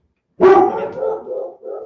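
A dog gives one loud, close bark followed by a trailing whine-like yelp, short and alone against silence.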